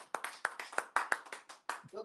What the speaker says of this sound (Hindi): तालियां सभी मेंबर्स की